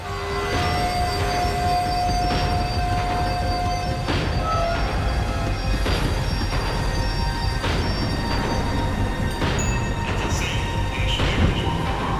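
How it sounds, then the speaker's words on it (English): A tram in the video game Max Payne 3 slowing down, a continuous heavy rumble with rhythmic wheel clunks and a brief squeal, loud and close, with a voice talking over it. "The tram was slowing down, and I'd only just gotten on board."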